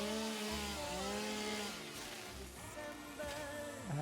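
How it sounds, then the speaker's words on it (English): A chainsaw in the video game Satisfactory, a continuous, loud engine whine with a wavering pitch as it cuts a tree, running steadily without pauses. "Do we have a chainsaw on us?"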